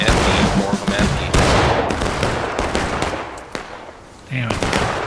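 Several shooters firing at once in an outdoor battle at a railroad cut, dense overlapping bursts and single cracks, loud and near at first, thinning briefly before another burst, with voices faintly mixed in.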